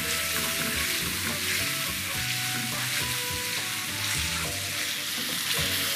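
Shrimp tortilla filling with lime stirred in a frying pan: steady loud sizzling broken by repeated scraping and clacking of a utensil against the pan, with no one speaking.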